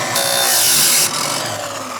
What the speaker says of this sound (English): like the chop saw because it gives me a very clean cut, but it will come in and make some sparks